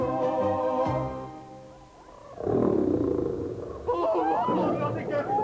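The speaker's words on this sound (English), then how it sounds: "Have you ever heard a lion roar?" A lion's roar, loud and close, swells in the middle and runs to the end after a stretch of steady tonal sound, with another roar-like surge near the close.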